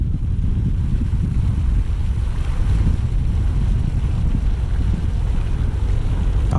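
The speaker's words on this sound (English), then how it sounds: "The wind's blowing a little bit and it is cold." Cold wind blows across a fishing dock, a continuous low buffeting rumble of wind against the microphone that stays loud and steady throughout, with no voices.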